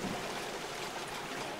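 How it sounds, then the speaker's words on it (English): Water flowing and dropping in the video game Oxygen Not Included, a steady, moderately loud stream-like trickle with no talking. "There goes the water drop."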